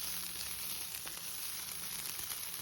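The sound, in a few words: crushed chicken frying in hot oil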